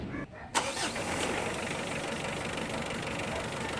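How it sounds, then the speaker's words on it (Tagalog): A Mitsubishi Adventure engine, struggling to pull, cranks briefly and catches, then settles into a steady, loud idle that runs on without pause. "Ilagay ko na nga itong engine cap niya, tapos pa-start ko itong makina"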